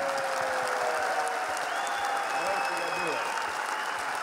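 Audience applause for the klapa group Skalin at a carnival klapa marathon, steady dense clapping from a crowd that fills the whole stretch with a few whistles and cheers on top.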